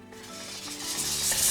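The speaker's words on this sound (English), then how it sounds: "we're going to spray the palette" Spray bottle misting an acrylic paint palette, a short soft hiss of spray that builds over about a second and a half.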